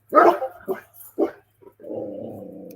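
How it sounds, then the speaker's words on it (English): Sandy the dog barks in a few sharp, close bursts at the neighbors, then drops into a lower, drawn-out whine or growl. "Sandy, stop barking at the neighbors"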